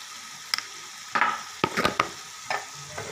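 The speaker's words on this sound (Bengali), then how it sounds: "এই আলুগুলো ঢেলে দিলাম, দিচ্ছি" Potatoes tipped into a hot pan with a teaspoon of salt fry with a close, bright sizzle, punctuated by quick spatula scrapes and clinks of stirring in an uneven rhythm; no voices.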